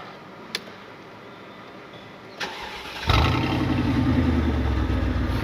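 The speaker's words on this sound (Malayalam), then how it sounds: "ആ V8 എന്ന് പറയുന്ന ആ ഒരു ബർബിളും കാര്യങ്ങളും എല്ലാം ഇറ്റ്സ് ജസ്റ്റ് ഇൻസെയിൻ" A V8 car fitted with an aftermarket exhaust cranks briefly and fires up, then settles into a deep, loud, rumbling idle burble heard close by, with a couple of faint clicks before the start.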